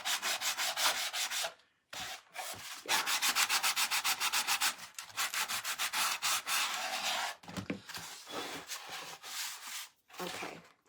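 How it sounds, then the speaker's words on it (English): A carved faux wood heart has its edges sanded round by hand, making a close, rasping rub in quick repeated strokes with brief pauses between bursts and no speech. "I'm going to sand my edges just to round them out"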